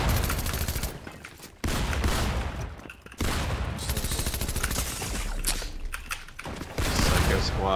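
Video game gunfire rattles in dense, loud automatic bursts, broken by a few short gaps and then resuming at full intensity.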